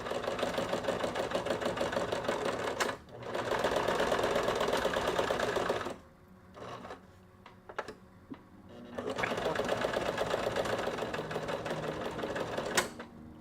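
A sewing machine stitching the shoulders of a jacket, running in long steady whirring bursts with a pause of scattered clicks and handling sounds between runs, close and fairly loud.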